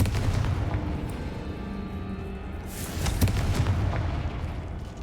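Confringo fire-spell blasts in Hogwarts Legacy on PS5, heard as a dense rumbling boom with a sharp burst near the middle, loud and continuous without speech over it.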